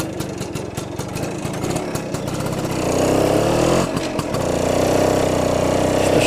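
A 1967 BSA Bantam D10 175 two-stroke motorcycle rides slowly, its engine putting out a rapid buzzing pulse that rises in revs and loudness partway through, close by with no talk.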